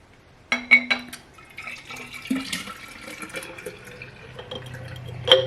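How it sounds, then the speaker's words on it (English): Breast milk pours into a pitcher with soft, uneven liquid trickles and light splashes against the container, fairly close and quiet, with a few small knocks and no talking. "you're gonna fill up your pitcher or whatever is easiest to pour out of"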